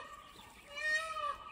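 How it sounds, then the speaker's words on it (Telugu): A peacock in a forest village gives one faint, distant wailing call that rises and then trails off, heard over quiet open-air background. "అక్కడ మీకు అరుపులు వినిపిస్తున్నాయండి, అవి నెమళ్ళ అరుపులు అన్నమాట."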